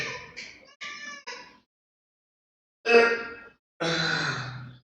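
A house cat gives a few short meows early on, then two longer, louder cries a little later, close by with quiet gaps between them and no talk over them.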